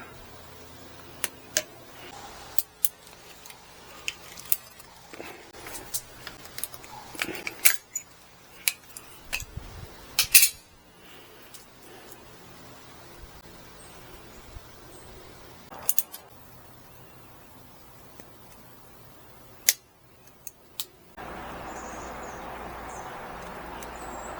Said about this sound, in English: Now I gotta shorten all of these up the same, or else it puts a strain on it. Cut them all the same length.